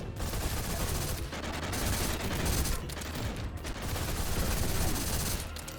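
SMG fire from the video game Get To The Orange Door rattles in loud, sustained rapid bursts, broken by a few short pauses, dense and close throughout.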